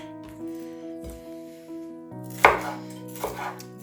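A kitchen knife chopping bell pepper on a cutting board, a few distinct thuds and crisp cuts close by over a steady background hum, with no one speaking.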